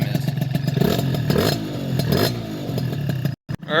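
A tuned scooter engine is held at maximum RPM, a loud, steady, buzzing engine drone that stays close and continuous before it cuts off abruptly near the end.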